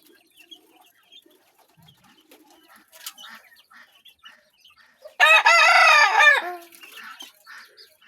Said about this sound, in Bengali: এই পাশেও কিছু দেশি মুরগি আছে